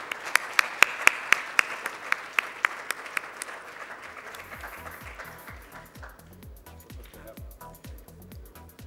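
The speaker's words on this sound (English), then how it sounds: "Ladies and gentlemen, with a huge round of applause" Audience applause welcomes a keynote speaker at a tech conference: a few sharp, evenly spaced claps ring out first, then thicken into a busier, more diffuse wash of clapping.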